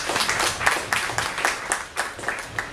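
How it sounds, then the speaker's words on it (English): An audience at a poetry event claps to welcome a poet, with distinct, separate hand claps at a moderate volume in an uneven, fairly sparse rhythm. "Can we please give him a big round of applause?"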